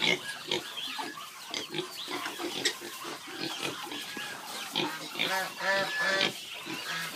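Pigs in a pig pen grunt and squeal continuously, a dense, close chorus of snorts and higher squeals with a voice faintly mixed in.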